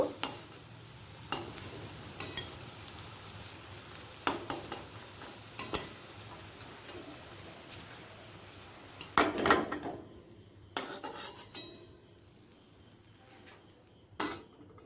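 Crispy coriander leaf and onion fritters frying in a pan, a soft low sizzle broken by sharp utensil clicks and scrapes at irregular moments, with a few louder clatters near the end and no voices.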